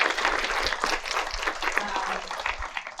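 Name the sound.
audience applause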